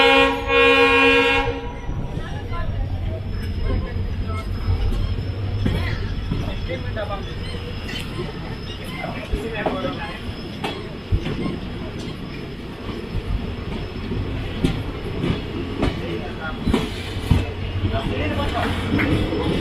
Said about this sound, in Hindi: फिलहाल देखिए इस ट्रेन का डिपार्चर।